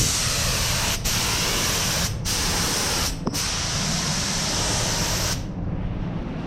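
Steady, loud hiss of a spray gun painting Chevelle steel inner fenders, running continuously, with a few brief breaks in the spray and a faint click, ending abruptly.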